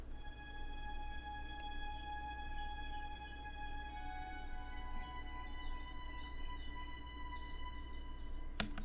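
A sampled strings preset playing legato whole-tone trills for an R&B sample: sustained bowed tones with rapid alternating notes layered above, steady and moderately quiet throughout with no talking.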